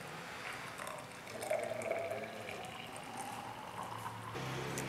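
Mixed blood juice, a healthy drink, poured into a serving glass, giving a steady liquid trickle with faint splashing close by and no one talking.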